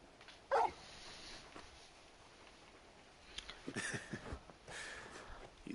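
The large dog companion Torgal in Final Fantasy XVI gives a short whimper, then after a pause a few soft yips and whines, fairly faint over quiet game ambience.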